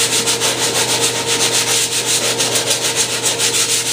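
150 and 200 grit sandpaper rubs continuously over the surface of a large RC airliner model, giving a loud, close, steady scratchy hiss in regular back-and-forth strokes.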